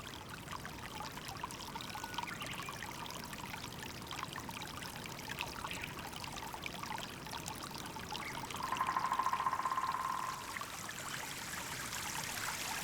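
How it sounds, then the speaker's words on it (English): Snowmelt water streams down a small cascade in April, a steady rushing pour that holds at an even level throughout and swells slightly for a moment near the end. "Snowmelt is running down a cascade."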